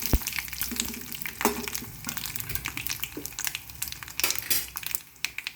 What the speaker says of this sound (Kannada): ಈಗ ಒಣಗಿದ ಮೆಣಸಿನ್ಕಾಯಿ ಹಾಕ್ತಾಯಿದ್ದೀನಿ ಒಗ್ಗರಣೆಗೆ.